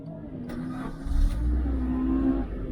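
A Suzuki Swift Sport bought cheaply at auction and driven to a track day starts up, its engine catching and settling into a steady, fairly loud, low rumble close by, with no talking.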